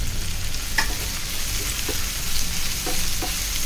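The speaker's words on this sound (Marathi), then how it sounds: "थोडा टोमॅटो मऊ होईपर्यंत आपल्याला परतून घ्यायचा आहे" Onion and tomato sauté in a hot pan for a prawn rassa, giving a steady close sizzle with a few soft scrapes of stirring.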